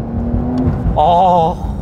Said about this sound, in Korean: 가변배기를 틀어놓고 패들 시프트를 살짝 써보면 들리시나요?